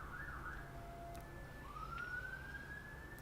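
An ambulance siren wails at a distance, its tone rising and falling, heard alone with no talking.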